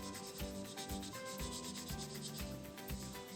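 A tissue rubs across a block of climbing chalk, making a close, steady scratchy rubbing with quick repeated back-and-forth strokes. It is fairly faint, and no one speaks.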